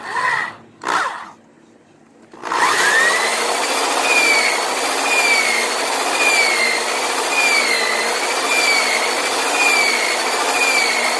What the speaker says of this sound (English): Taking a drill.